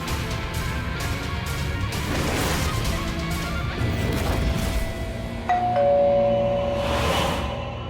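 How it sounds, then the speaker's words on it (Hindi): A doorbell rings, its clear ding tones coming through in the latter part amid clattering, crashing household noise, with repeated chimes near the end. "काहे बार बार घंटी बजा रहे हैं?"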